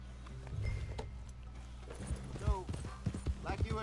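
Rhythmic hoof clip-clops from a horse in the video game Red Dead, with people talking over them and a brief whinny-like call.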